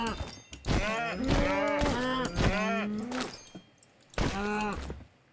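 Cows moo several times in a video game, with long, drawn-out calls that overlap and are close and loud, followed by a short pause and one more moo.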